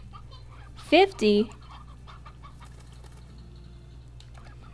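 Roosters in the video game Slime Rancher give two quick, clear clucking calls close together near the start, then only a low steady hum remains; a voice speaks briefly.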